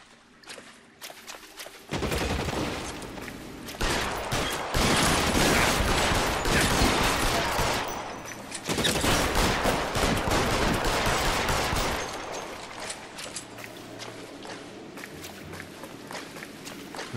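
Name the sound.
machine gun fire in the video game LA Noire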